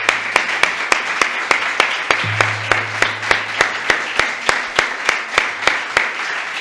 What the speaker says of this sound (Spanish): quiero que le demos un enorme aplauso en recuerdo a nuestro querido